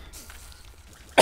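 A single short cough bursts out at the very end, loud and close, after a quiet stretch of faint background game sound.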